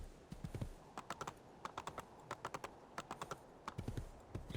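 Horse hooves in Assassin's Creed 2 give a steady clip-clop of rhythmic hoof strikes at a trotting pace, close and fairly quiet.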